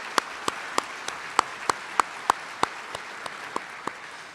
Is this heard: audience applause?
yes